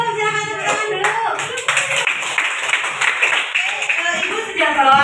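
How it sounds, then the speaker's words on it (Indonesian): Students in a biology classroom clap their hands together in a brisk burst of applause, with a teacher's voice and chatter mixed over the clapping. "silakan tepuk tangan dulu"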